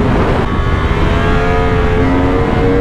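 A Yamaha MT-10 motorcycle engine revs loud and close under acceleration, a dense steady roar with a pitch that climbs smoothly over a few seconds, with no voices.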